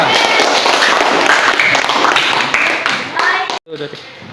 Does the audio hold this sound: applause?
yes